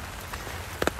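Steady rain pattering on a surface on a rainy morning, a soft continuous hiss with a couple of brief louder drips near the end.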